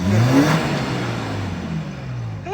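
Maruti Gypsy off-road engine revving hard on a slipping, worn-out clutch, a loud sustained mid-pitched engine roar that eases slightly, close and continuous.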